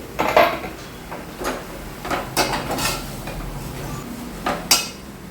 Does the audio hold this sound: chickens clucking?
no